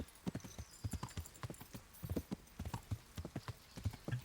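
Galloping horse hooves in Kingdom Come: Deliverance, a steady rapid clip-clop rhythm of close, crisp strikes on the ground, with a faint whinny and no talk.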